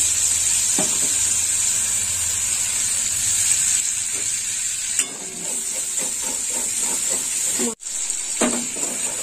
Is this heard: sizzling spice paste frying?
yes